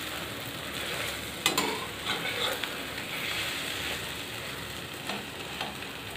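Potato and egg omelette frying in a pan gives a steady, close sizzle throughout, with a few soft clinks and scrapes from turning it over.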